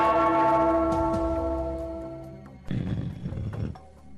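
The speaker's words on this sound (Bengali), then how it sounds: "পেয়েছি গোপাল, চাঁদ আঁকার ঘন্টা পেয়েছি। ওই ঘন্টাটা বাজাও" A single bell engraved with a moon is struck once, ringing with a bright sustained tone that decays over a couple of seconds before a rumbling clatter of other noise follows.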